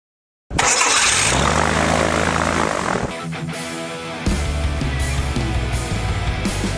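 A homebuilt light aircraft's engine cranks and catches abruptly after silence, then settles into a loud, close, steady propeller-driven roar with a brief dip and a surge in revs.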